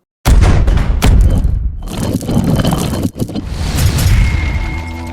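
A huge explosion in Iran roars in with a sudden loud boom, then a sustained rumbling, crackling blast that keeps going, close and heavy, with no talk.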